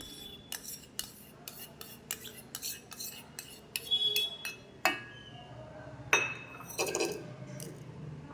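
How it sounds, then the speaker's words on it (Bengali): Ice cubes clinking and rattling into a glass for a homemade yogurt lassi, a series of sharp, bright clinks and knocks spread across the clip, fairly close, with a few louder clattering drops near the end. "এখানে যে আইস কিউবগুলো আছে সেগুলো দিয়ে দেবো"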